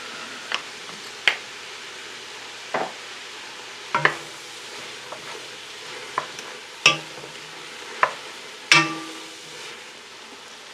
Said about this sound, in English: Now we're going to add the garlic.